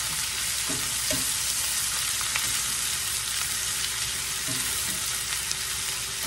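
Hash brown potatoes and okra fry in a pan with a steady crackling sizzle, punctuated by a few soft scraping stirs, close and moderately quiet.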